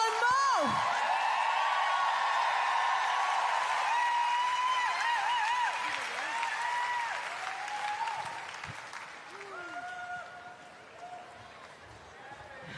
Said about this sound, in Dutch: Dames en heren, geef ze een daverend applaus met prachtige backings.